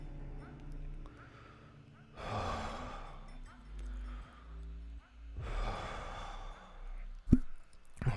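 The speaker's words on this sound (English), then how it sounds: "Take a breath." A person takes two long, deep breaths, each a drawn-out breathy inhale and exhale, with quieter breathing and a brief sharp sound between them.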